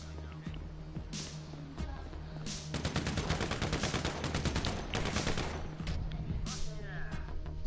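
Combat MG machine gun from a GTA video game firing in rapid sustained bursts, loud and close, with game sounds and a voice speaking briefly at the start.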